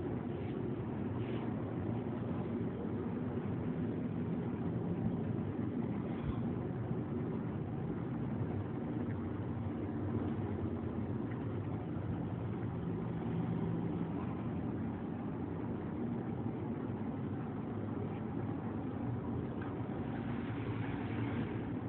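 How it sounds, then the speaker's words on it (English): A motor on the extended apron conveyor of a pillow blowing line with hopper feed runs with a continuous, even, low mechanical hum and no pauses or talking. "Motor on extended apron."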